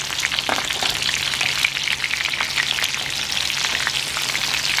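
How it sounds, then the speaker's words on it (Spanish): Dried chile and tomatoes frying in a pan for a red salsa, a loud, steady, close hiss of sizzling oil with faint crackles throughout. "Este chile está seco y se dora más rápido."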